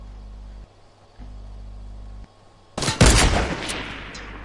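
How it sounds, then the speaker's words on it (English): A FAMAS rifle fires a loud, sharp burst of gunfire in a video game, following a steady low hum that cuts in and out. "You just shot me with a burst. A FAMAS, to be more precise."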